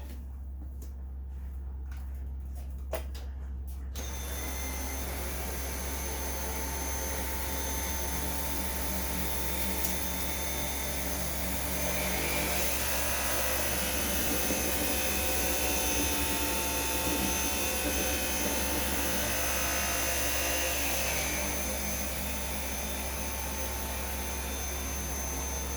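A vacuum cleaner with a motor bar cleaner head runs continuously close by as a loud, steady motor whine, after a brief start of clicks and bumps, with the tone shifting slightly as the head moves.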